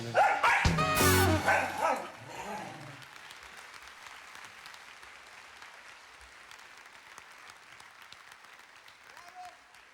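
At the end of a song, a dog-bark sound rings out briefly, then sustained applause from a large audience fills the rest, steady and moderately loud.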